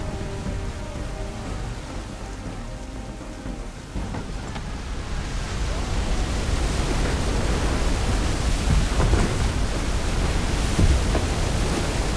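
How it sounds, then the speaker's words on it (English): A thunderstorm rolling in at sea in Assassin's Creed III, a broad rumble of wind and rain that swells louder partway through and stays dense and continuous, with no voices. "There's a storm coming, Captain."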